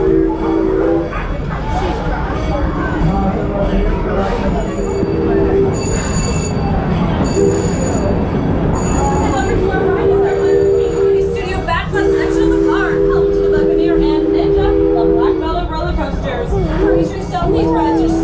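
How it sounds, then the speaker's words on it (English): An amusement park train at Six Flags St. Louis rumbles and squeals along its track into a station with tonal whistle-like notes while an announcer's voice talks over it, with a dog barking intermittently. "we are now pulling into the Bugs Bunny National Park train station"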